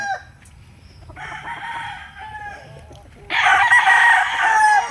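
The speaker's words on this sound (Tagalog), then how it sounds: "Ang gaganda ng mga manok nila rito." Roosters at a game farm in Tanauan City, Batangas, crow loudly, one call and then a second, stronger one right after, over a low steady background hum.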